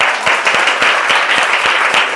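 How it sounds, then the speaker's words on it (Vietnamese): An audience at a health talk claps for a speaker, producing loud applause with a pronounced regular beat, as if many hands fall into a shared rhythm, sustained evenly throughout. "một tràng pháo tay cho Phương đúng không"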